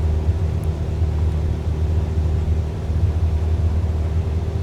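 A light small plane rolls down the runway on its takeoff roll, its engine a loud, steady, close drone with a deep rumble that holds evenly throughout, with no one talking.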